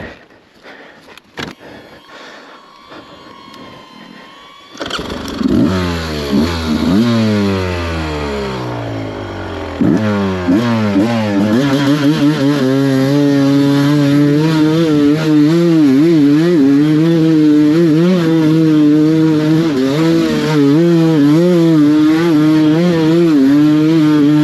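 A dirt bike engine, broken down out in the middle of nowhere, fires up after a few seconds of quiet handling noise, then runs loud and close with repeated throttle revs rising and falling over a steady idle.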